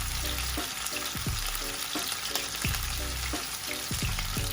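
Pre-cooked shrimp sear in a hot pan for salmon and shrimp pasta, giving a steady loud sizzle with repeated scraping and stirring clatters throughout.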